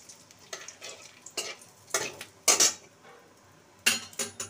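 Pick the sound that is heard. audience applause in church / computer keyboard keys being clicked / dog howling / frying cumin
frying cumin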